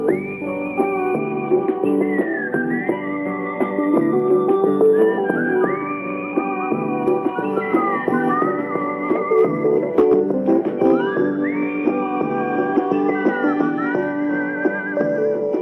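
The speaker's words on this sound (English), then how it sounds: "time for your morning whistling exercises. Let's go now. Pucker up." A person whistles a continuous, wandering melody with sliding pitches and short trills, clear and close, with no talking.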